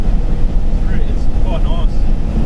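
A Holden Torana with a four-speed gearbox cruising at 100 km/h and 2,500 RPM, its engine giving a steady low drone with road noise underneath.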